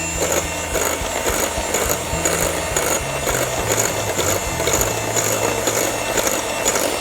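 An electric mixer at low speed stirs batter for a flourless chocolate cake, making a steady whirring motor drone with a faint rhythmic beat, close by and without speech.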